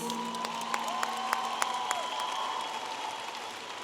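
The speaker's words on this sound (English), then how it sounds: "a round of applause for the master's graduates from the College of Business" A large commencement crowd applauds the master's graduates of the College of Business, a steady distant wash of clapping with scattered cheers, while a sustained tone hums beneath it.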